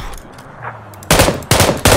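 Gunfire in the video game PUBG: three loud, sharp bursts of shots close up in the second half, after quieter game sounds at the start.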